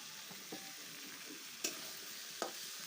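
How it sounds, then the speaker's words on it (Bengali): Washed vegetables drop into spice paste already fried in a pan on a clay stove, giving a steady soft sizzle with occasional scraping stirs and light clinks, fairly quiet and without talk. "মশলাটা আমি ভালোভাবে কষিয়ে নিয়েছি এখন ধুয়ে রাখা সবজিগুলো আমি ছেড়ে দিলাম"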